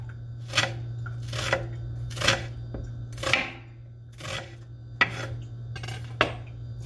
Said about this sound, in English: Now you want to slice these small, thin strips, the onions, so they can fit on there nicely.